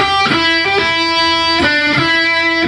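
A short electric guitar riff: a handful of bright, ringing notes struck in quick succession on the second and third strings, with smooth hammer-on changes between some of them, played alone.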